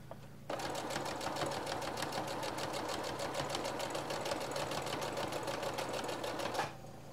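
A home sewing machine stitches fabric in one unbroken burst, a loud, rapid, even clatter that starts abruptly, runs about six seconds and stops sharply, with no voices over it.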